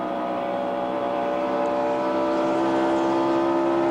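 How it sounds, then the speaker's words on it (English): A NASCAR stock car engine at the 1996 Coca-Cola 600 race runs steadily on the track, a loud continuous drone with strong harmonic tones and no talk. "You hear the motor sound at 33 with Greg Sachs back out on the track again."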